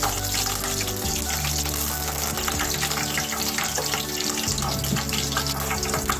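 Green chillies fry in hot oil in a pan, giving a loud, continuous, close sizzle with a low rumbling hum underneath. No one speaks.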